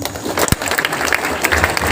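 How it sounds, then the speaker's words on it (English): Crowd applause at a school Independence Day celebration in Supaul, steady clapping with a sharp louder clap near the start, moderately close and sustained through the stretch. "Give him a big round of applause."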